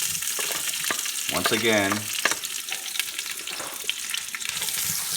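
Chopped onions sizzle in hot oil at the start of cooking adobo, a steady crackling fry running throughout with a brief burst of stirring, while a voice speaks now and then over it.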